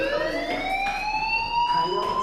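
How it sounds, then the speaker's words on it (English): A fire alarm wails in the video game Life Is Strange, a steady rising electronic siren tone with bright harmonics sounding continuously and loudly throughout, with no voices over it. "Hey, do you hear that fire alarm?"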